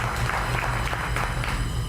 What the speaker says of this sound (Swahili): Simpigie Tonight makofi